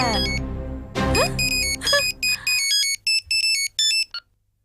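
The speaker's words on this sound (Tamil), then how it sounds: "பாத்தியா பாத்தியா பெல் அடிக்குது" A phone ringtone plays in a television drama: a burst of music, then a repeating electronic melody of bright, loud tones in short regular phrases that stops abruptly.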